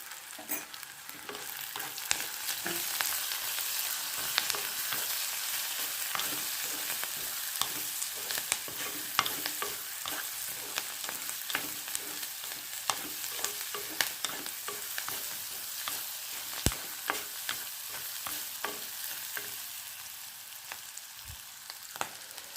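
Green chillies, chopped ginger and turmeric fry in a pan for a Kerala-style vegetable curry, with a continuous close sizzle and frequent sharp clicks of stirring throughout.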